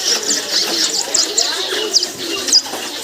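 Several people blow into cupped hands to imitate bird calls, producing a string of short, hollow, cooing hoots close by, irregularly spaced, with faint voices underneath.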